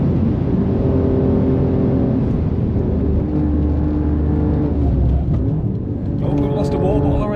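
An Alfa Romeo Giulia QV drives the Nürburgring: a loud, steady engine drone and road roar fill the cabin throughout, with a shifting tone as revs change and the driver talking over it.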